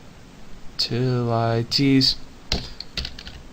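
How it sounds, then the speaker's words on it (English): Keyboard typing while writing Java game code, heard as a few sharp separate clicks near the end, after a stretch of voiced humming or speech. "I need to type this slow before I teach you"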